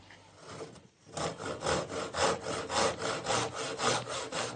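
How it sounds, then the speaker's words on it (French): A hand saw cuts through wood for a handmade wooden lamp in a craftsman's workshop, beginning after a short pause and then settling into steady, loud back-and-forth strokes about once every half second. "Et on coupe à la scie."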